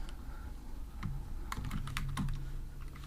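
Steady typing on a computer keyboard while writing code for a quiz app: quiet, close key clicks in an uneven rhythm with a few quicker bursts, heard alone without speech.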